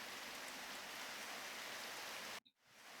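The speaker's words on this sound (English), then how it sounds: "It is raining now." Rain falls in a steady, close hiss of drops on a surface, then cuts out abruptly near the end before faintly returning.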